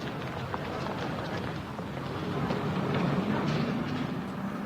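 A tram rumbles steadily along its tracks in Berlin in May 1945, shortly after the surrender, a continuous low clatter that grows slightly louder toward the end.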